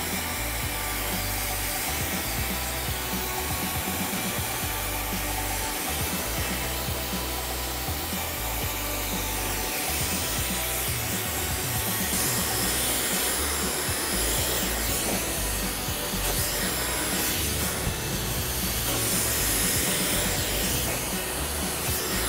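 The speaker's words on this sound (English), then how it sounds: "So I'm going to blast dry it to start off." A hair dryer blasts continuously at close range while blow drying hair for a textured salon style, a loud steady roar with shifting airflow as it moves, no voices.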